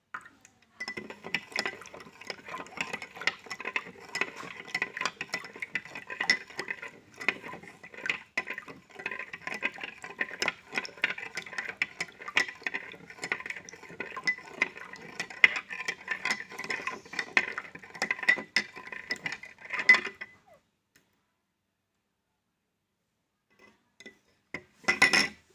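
A spoon stirs salt into a glass of water for a saturated solution experiment, clinking against the glass in fast, continuous close taps for about twenty seconds, then stopping, with a few faint clinks near the end.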